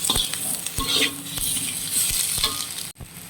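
Spice paste sizzles steadily in oil as it is stirred in a pan for a fish curry, with scraping and light clinks of a utensil against metal throughout.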